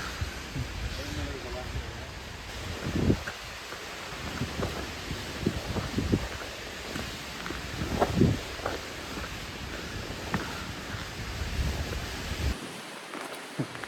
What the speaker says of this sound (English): The wind is nuts up here.